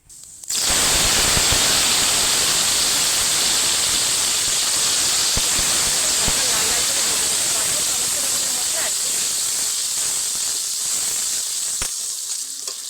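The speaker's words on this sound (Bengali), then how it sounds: "দেব তেজপাতা, পেঁয়াজ আর টমেটোর বাটাটা দিয়ে দেব।" Onion and tomato paste dropped into hot oil tempered with whole cumin and bay leaf bursts into a loud, sustained hissing sizzle that stays strong and close, with faint utensil knocks underneath.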